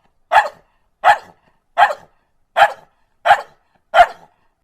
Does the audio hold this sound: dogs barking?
yes